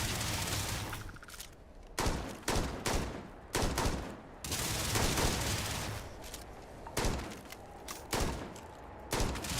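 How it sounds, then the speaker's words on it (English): Bursts of automatic gunfire in Starfield, loud volleys broken by short silences, repeating in an uneven rhythm with close, harsh cracks. "let's do some shooting"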